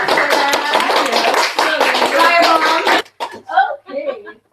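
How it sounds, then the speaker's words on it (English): An audience at a mastermind presentation claps for about three seconds, a busy patter of many hands at close range, then it cuts off and a voice speaks in short phrases. "Everybody give another round of applause"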